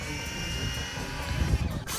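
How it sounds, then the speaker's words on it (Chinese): A remote control model British fighter plane in flight outdoors, its steady whining motor hum continuous throughout with a brief louder swell near the end. "英式战斗机首次飞行"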